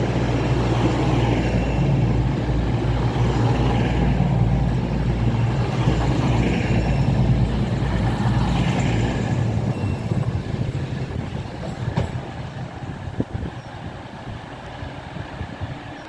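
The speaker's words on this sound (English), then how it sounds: "coming in now, we have the 1531 East Midlands Railway service to London St Pancras" An East Midlands Railway train, the 15:31 service to London St Pancras, arriving at Leicester station: a loud, steady rumble and roar of the train close by, easing off toward the end with a few clunks.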